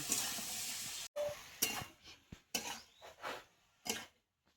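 Gourd pieces with turmeric and chilli powder stirred in a pan: a sizzling hiss broken by repeated scraping and clattering strokes of a spatula, close and uneven, with brief quiet gaps.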